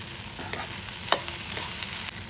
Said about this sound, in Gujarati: તે લસણવાળા મરચાંને તેલમાં કકડવા દેવાનું છે